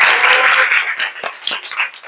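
Students applaud in an Islamic religious education classroom, a short burst of group clapping that thins into scattered individual claps.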